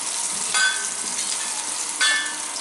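Spices sizzle steadily in hot oil in a pan, with two brief louder bursts of stirring partway through, close and continuous, no voices.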